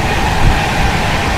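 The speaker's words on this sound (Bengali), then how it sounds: "আমাদের ট্রেন এখানে পুরো ফুল স্পিডে এগিয়ে চলেছে" Sealdah Rajdhani express train running at full speed, a loud, steady broadband roar of wheels and rushing air heard from inside the train, continuous with no voices.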